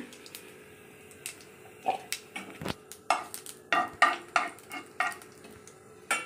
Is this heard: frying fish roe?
yes